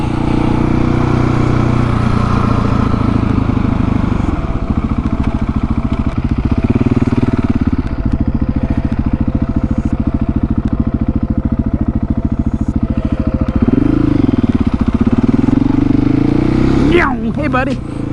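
A 701 motorcycle engine drones loudly and constantly during wheelies, its pitch rising and dipping with the throttle, while a person talks over it near the end.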